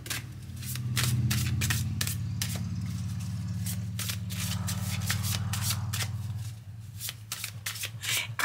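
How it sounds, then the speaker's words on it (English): A deck of tarot cards is shuffled close by in quick riffling bursts, the flicks coming in a brisk rhythm over a low, steady background hum. "So let me just shuffle again."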